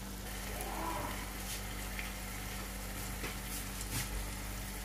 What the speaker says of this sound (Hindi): और चिकन की भुनाई कर लें।